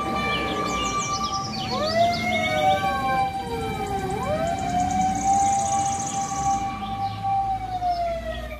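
A toy fire truck siren wails with rising and falling electronic tones, steady and fairly loud, with chirpy high beeps layered on top.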